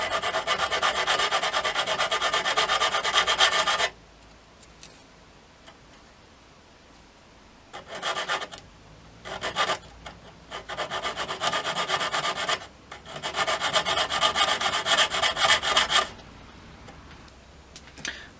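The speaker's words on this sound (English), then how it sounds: "just going to sand that back" Abrasive sanding on the crimped end of a plastic scale-model part, with bursts of steady rubbing strokes broken by short pauses, close and fairly loud with no talking.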